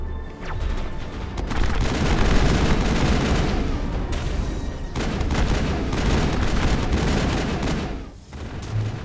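Gunfire in the video game Mass Effect rattles in dense sustained bursts with booming impacts, loud and continuous, pausing briefly around the fourth and eighth seconds.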